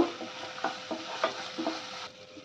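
Sliced onions fry with turmeric and chili powder in a hot pan, a soft steady sizzle broken by a few gentle stirring scrapes, close and fairly quiet, with no talking.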